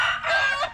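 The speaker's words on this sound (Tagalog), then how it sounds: "Mga manok mga idol." Chickens clucking and calling close by, a loud, bright burst of fowl sound lasting under a second, with no talking.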